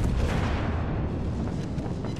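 Battleship guns firing at the Bismarck in World of Warships: Legends, a dense rumbling roar of heavy naval salvos that holds steady and loud for a couple of seconds, with no voices.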